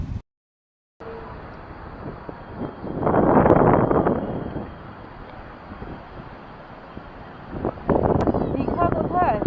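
Strong wind gusts across the sea beach at Puri, a steady rushing roar buffeting the microphone throughout, with voices talking over it and louder surges in the middle and near the end.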